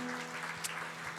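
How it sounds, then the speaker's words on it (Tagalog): Church congregation applauding during Sunday worship, a dense, steady wash of many hands clapping together, heard briefly and at moderate loudness. "Come on, the best clap offering to God."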